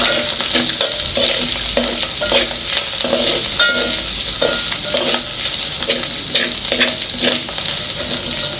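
Onions sizzling in a pan while a spoon scrapes and stirs in a steady rhythm, close and loud frying crackle running throughout with no speech.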